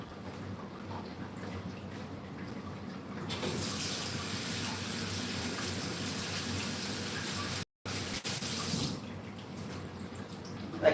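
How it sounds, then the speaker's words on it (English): Water gushes from a tap during a quick handwash, a steady hissing stream that starts a few seconds in, cuts off briefly, then resumes before stopping near the end. "Quickly wash my hands, sorry about this."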